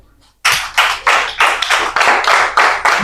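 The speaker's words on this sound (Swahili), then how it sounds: "Pigia mchungaji makofi" A church congregation claps for the pastor in a loud, rhythmic unison beat. About nine strong claps come in an even, steady pulse after a moment of near silence.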